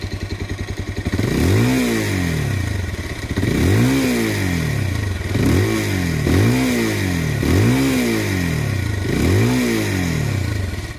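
A 2025 Bajaj Pulsar 220F motorcycle is ridden, its engine revving up loudly and dropping back in a repeated rise-and-fall rhythm as it works through the gears, close and clear with no talking.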